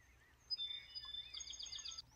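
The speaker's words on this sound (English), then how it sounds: "Some joyful birds." Birds sing in a forest, with several bright chirps and short warbling phrases in quick succession over a very quiet background.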